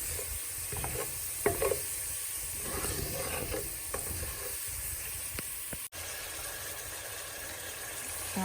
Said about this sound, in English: Basically just allowing the garlic to brown and sort of burn off a little bit with the spices.